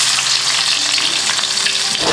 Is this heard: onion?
yes